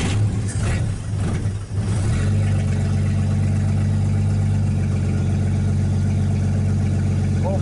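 An old 1950s Chevrolet or Ford engine cranks and fires after the gas pedal is pumped, then settles into a loud, steady, rumbling idle heard up close.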